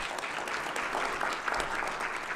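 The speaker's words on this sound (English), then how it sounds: "one more round of applause for our speakers" Steady applause from a conference audience fills the whole stretch, dense clapping with no pauses, fairly distant and even in loudness.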